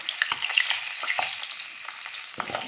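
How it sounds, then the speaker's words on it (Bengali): Pabda fish frying in a pan gives a soft, uneven sizzle with scattered pops and crackles. It sounds close but fairly quiet, with no speech. "মাছটাকে ভেজে নিয়ে আমি আসছি এই যে মাছটা ভাজা হয়ে গেছে"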